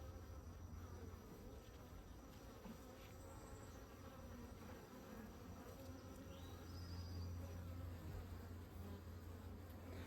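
Honeybees hum steadily around an open hive that has a laying-worker problem, with a dense, continuous outdoor buzz and a few individual bees passing close by.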